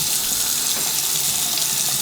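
Water runs from a newly repaired faucet in a loud, steady, close gush that holds constant for the whole moment, with no voices over it.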